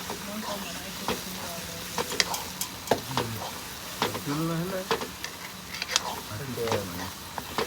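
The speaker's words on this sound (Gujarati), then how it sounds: "હવે નાખીશું આપણે મીઠું તો હલાવવાનું ચાલુ કરો" Chili powder, salt and turmeric stirred into sizzling food in a pan, scraping spoon strokes and bubbling hiss under continuous talking voices nearby.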